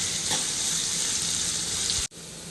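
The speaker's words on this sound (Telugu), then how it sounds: "ఆనియన్ కొంచెం సేపు ఇలా ఫ్రై చేసుకోవాలి" Sliced onions with green chillies sizzle steadily in a hot pan for a mutton curry, a close, continuous frying hiss that cuts off abruptly near the end.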